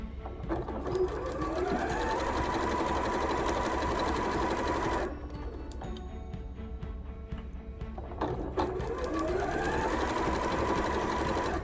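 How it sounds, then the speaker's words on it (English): A sewing machine stitches fabric for a jewelry pouch in a steady, loud mechanical whir that ramps up, pauses briefly midway, then runs again, close and continuous with no talk. "overlap, and reverse to lock your stitching again"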